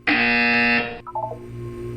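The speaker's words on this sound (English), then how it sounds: "You will hear a buzzer." Loud, steady electronic buzzer from the Portal 2 video game, a harsh tonal blare sustained for under a second and cut off sharply, followed by faint low hum and small mechanical blips.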